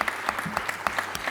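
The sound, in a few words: audience applause at economics conference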